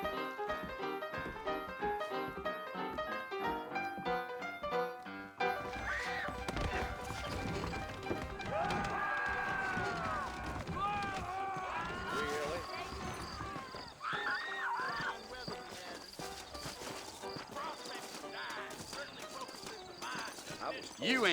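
Saddled horses in the Red Dead Redemption video game clip-clop and whinny over a musical score, with voices speaking throughout.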